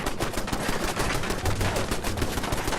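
Dense, continuous gunfire in the video game Fallout 4, a rapid automatic barrage of overlapping shots that fills the whole stretch at an even loudness, with no speech over it.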